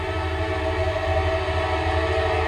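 A train rolls through the small town of Midway, Kentucky, where the line splits the main street, its horn sounding a loud steady tone over the continuous rumble of the passing cars.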